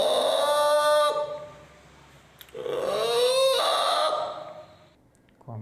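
A man vocally imitates a rooster crowing, giving two long, strained calls with a pause between them, loud and close, with a short breathy sound at the end.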